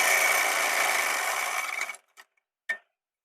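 A sewing machine stitches underwear fabric in a steady, loud whirring run for about two seconds, then stops, leaving two brief clicks and a short burst.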